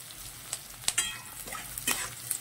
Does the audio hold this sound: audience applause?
no